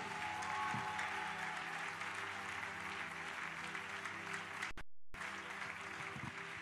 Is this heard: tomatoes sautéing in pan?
no